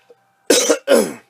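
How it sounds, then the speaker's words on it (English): Two harsh, close coughs in quick succession from a person, with a faint click just before them. "excuse me for all the coughing"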